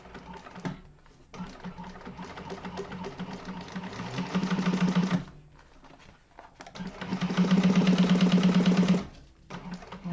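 A sewing machine stitches down the sides of a Yoshi sling bag, running in two steady bursts with a short pause between, fairly close and clear with no talk over it.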